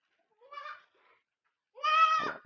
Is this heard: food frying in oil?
no